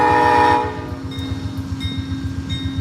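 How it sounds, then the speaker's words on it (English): Amtrak California Zephyr horn sounding a brief warning blast at the Ottumwa, Iowa station platform, a loud sustained tone that cuts off after about half a second, leaving the steady low rumble of idling diesel locomotives. "that was just the warning whistle, so everybody can get back on"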